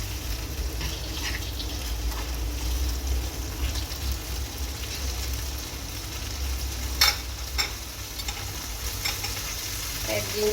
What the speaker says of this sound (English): oil and add the prawns to the pan. And little fry it